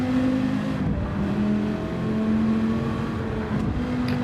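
A Dodge Viper engine in Gran Turismo 7 drones steadily with a sustained humming tone and slight rises in pitch, loud and without any talking.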